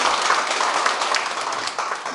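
Steady applause from a gathered crowd at a town community meeting in Korea, many hands clapping at once in a continuous, fairly loud wash as attending officials are introduced.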